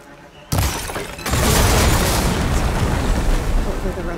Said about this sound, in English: Just gotta shoot that blaze.